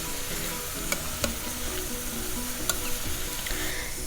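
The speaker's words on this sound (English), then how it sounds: "And fry them all" Tomatoes, beans and carrot fry for sambar in a dense, steady sizzle, with a few light utensil clicks over the close hiss.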